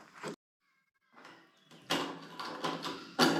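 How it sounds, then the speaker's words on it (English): Metal security seal twisted until its metal fibers tear open, heard as short scraping, rattling bursts close by with brief pauses between them. "I think the trick to these security seals is to just keep twisting"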